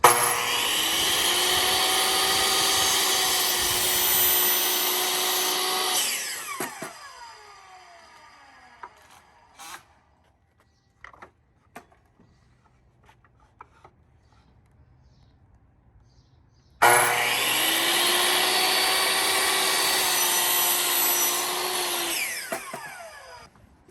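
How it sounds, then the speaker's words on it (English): A power saw cuts cellular PVC railing for a Liberty rail install in two long passes: a loud, steady whining buzz for about six seconds, a quiet gap with small knocks and clicks, then a second equally loud run near the end. "we're gonna go ahead and cut our cellular PVC rail, both ends"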